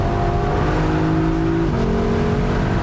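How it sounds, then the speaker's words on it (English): A Lexus LC500 convertible's Toyota 5-liter V8 revs hard, a loud, steady, metallic engine howl with a clear pitch shift partway through, close and alone. "The Toyota 5-liter V8 that began its life in the"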